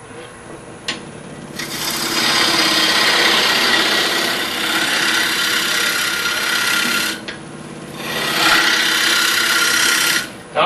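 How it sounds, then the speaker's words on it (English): A wood lathe gouge takes a smoothing cut on a square-edged turned bowl, a loud, steady scraping hiss that runs continuously with brief drops as the tool shifts, near and alone. "Now I'm making a smoothing cut."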